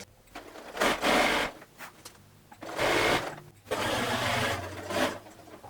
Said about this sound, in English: I'm going to sew across this side, all the way up this strap, all the way down that strap, until I get back to where I started